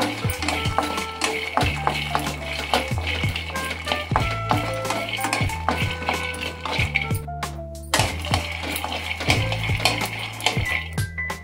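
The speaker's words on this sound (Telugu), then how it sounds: "చూడండి, వేగినవి ప్లేట్లోకి తీస్తున్నాను" Fried peanuts are scraped and tipped from a metal pan onto a plate, making repeated close clinks, rattles and tinny scrapes in an irregular rhythm, with a voice talking over them.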